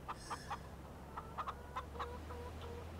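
Chickens cluck in short, quick bursts in the video game Farming Simulator 15, fairly faint over a low steady hum, with no one talking.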